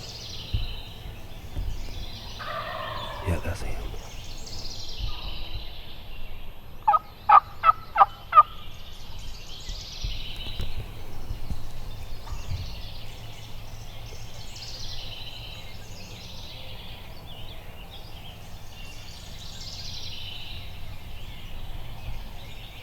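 A wild turkey gobbler gobbles once in the distance, a rattling burst standing out over steady birdsong and outdoor ambience on public land in Wisconsin.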